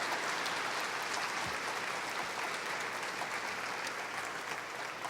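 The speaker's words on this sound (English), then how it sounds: "So let's give her a round of applause." Rally audience applauding a state representative being honored, a continuous dense patter of many hands clapping, even and sustained, heard from within a large room at moderate level.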